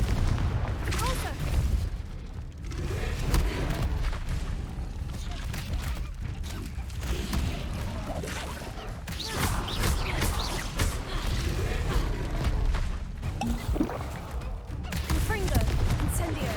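Confringo and Incendio spell blasts in Hogwarts Legacy crack and boom again and again in a loud, sustained run of bursts, with a player's voice talking over the combat.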